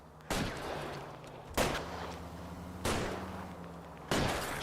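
Gunshots aimed at a car's tires in L.A. Noire, four loud, evenly spaced single shots, each a sharp crack with a short decaying tail, over a low steady engine hum.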